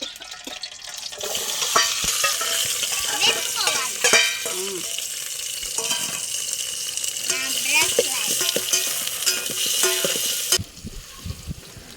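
Green chillies, onions, carrots and other vegetables stir-fry in a pan for noodles, with a continuous sizzle and repeated scraping of a spatula, while a voice talks at times before the sound drops off near the end.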